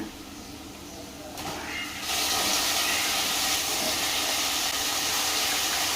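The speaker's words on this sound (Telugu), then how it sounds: "రొయ్యలు అయితే మంచిగా ఫ్రై అయిపోయాయి ఆయిల్లో ఇక మనం కట్ చేసి పెట్టుకున్న వంకాయలు అయితే వేసేస్తున్నా" Cut brinjal pieces drop into hot oil alongside fried shrimp, and a loud, steady sizzling hiss bursts up and carries on strongly, close to the pan.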